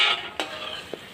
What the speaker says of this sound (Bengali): বাদামটা ভাজা হয়ে গেছে